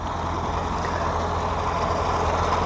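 A 1948 vintage Farmall tractor engine idles steadily at an outdoor haymaking festival, with a continuous low rumble and throb and no talk over it.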